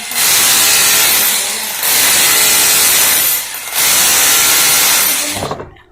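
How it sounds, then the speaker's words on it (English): An INGCO RGH9018 rotary hammer drill runs in chiseling mode, a loud, dense hammering roar in three long bursts separated by brief dips, then cutting off near the end. "press this lock here and rotate, and we are now in chiseling"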